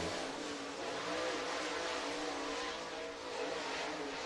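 Outlaw race car engine at North Georgia Speedway, fitted with a Yoder Racing engine, a steady loud broadband roar throughout with slight swells, engine noise continuous and close.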